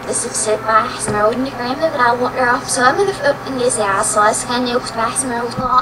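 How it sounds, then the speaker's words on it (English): Speech played backwards in editing software, a single voice rendered in reversed syllables with swelling, sucked-in vowel shapes and inverted rhythm, continuous and close for several seconds. "Final Cut Pro can go backwards, and I'm listening to my audio backwards."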